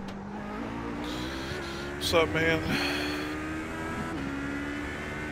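A race car engine in the iRacing sim game during the 24 Hours of Le Mans hums steadily with a short rising rev in the middle, while a voice speaks briefly over it.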